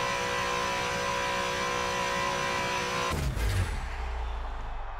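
Australian Ford V8 Supercar racing in Forza 7, a loud engine droning at high revs for about three seconds, then a sudden shift in pitch as the car slows and the engine settles into a lower rumble.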